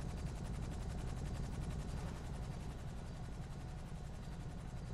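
A helicopter in GTA 5 drones with a steady, dense rotor chop, loud and close throughout and unbroken, with no voices heard.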